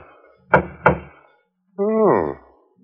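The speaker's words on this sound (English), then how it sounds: "There's a discreet knock on the door at the front of the shop." Two discreet, evenly spaced knocks on a shop's front door sound close and clear, followed by a brief vocal exclamation.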